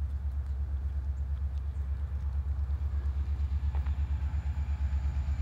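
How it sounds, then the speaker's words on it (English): Freight train locomotives rolling past in the rain, a steady heavy low rumble with rhythmic pulsing throughout, close and continuous with no voices. "Those locomotives sound really good."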